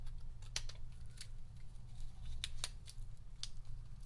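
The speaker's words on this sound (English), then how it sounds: "Let's just get that off with the scissors." Scissors snip through the backing paper of a mini glue dot, a handful of crisp, close cuts spaced irregularly over a low steady hum while making a notecard bow.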